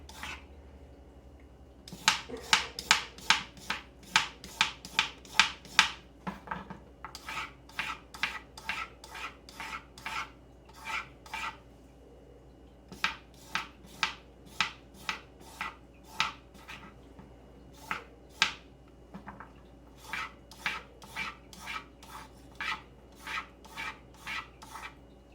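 Old carrots being peeled or grated in a home kitchen, giving a long run of quick, close rasping strokes in short bursts with brief pauses between them, alone without talk.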